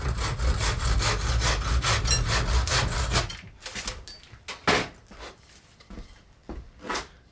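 A handsaw cutting off wooden wedges driven into a medieval mace haft, fast rasping strokes close up for about three seconds, then slower, separate scraping strokes.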